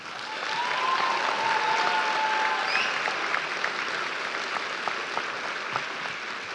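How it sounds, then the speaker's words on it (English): Sustained applause from a crowd at a 2026 Capital High School graduation ceremony, broad steady clapping that holds for several seconds and then thins slightly, with no one speaking over it. "let's give them a round of applause, please"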